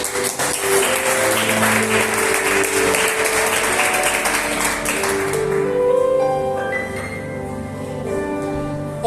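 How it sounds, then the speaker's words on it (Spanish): A church congregation claps for a member named Rey, dense applause that fills the room and then thins out while organ or keyboard chords ring on underneath. "Dale un aplauso a Rey"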